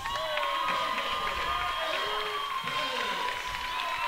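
Big crowd at a high school wrestling conference championship finals, a steady dense roar of voices and cheering filling the whole stretch at constant loudness, with commentators talking over it.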